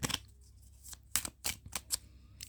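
Tarot cards being shuffled by hand: several quick, crisp riffling bursts with short pauses between them, close and fairly quiet, with no talking.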